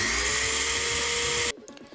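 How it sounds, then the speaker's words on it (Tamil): A power drill whines loudly while boring a hole through the center of a wooden stick, a steady grinding drone that cuts off abruptly and is followed by brief faint clatter. "அந்த குச்சியில் சென்டரில் ஓட்டை போட்டுக்க போகிறேன்"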